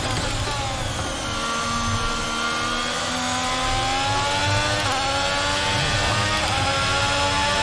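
An F1 race car engine in the racing video game F1 22, held at a loud, continuous high-revving whine with rising pitch sweeps through gear changes, steady and close throughout without pause.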